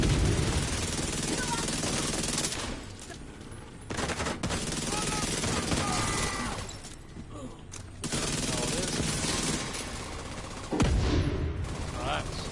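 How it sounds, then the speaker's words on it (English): Gunfire and a grenade blast in The Division 2 video game at the Air & Space Museum: sustained loud bursts of automatic fire broken by brief pauses, with a heavy thump near the end. "once again, let's throw a grenade."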